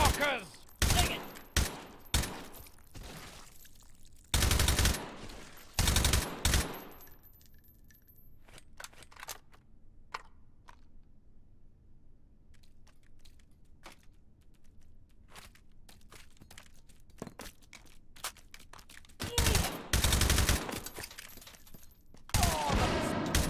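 AK rifle fire in the VR shooter game Hot Dogs, Horseshoes & Hand Grenades comes as loud, sharp bursts at the start, around the middle and near the end, with quieter clicks, clinks and handling noises between the bursts.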